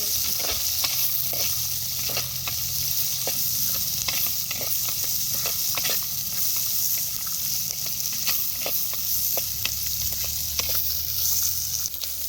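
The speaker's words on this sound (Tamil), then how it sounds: "வெங்காயம் பூண்டு எல்லாம் நல்லா வதங்கிடுச்சு" Onion and garlic sizzle steadily as they fry in a pan, with occasional stirring scrapes and clicks throughout.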